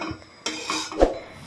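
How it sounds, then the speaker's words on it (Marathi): Roasted garlic, green chili and ginger are scraped from a pan into a mixer jar, giving a few short metallic clinks and scrapes of utensil against cookware, close and moderately loud, with no talking. "हे डायरेक्ट मिक्सरच्या भांड्यात काढून घ्यायचं"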